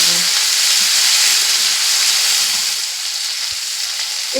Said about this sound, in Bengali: পেঁয়াজ, রসুন আর মটরশুঁটি ভালো করে ভেজে নিতে হবে।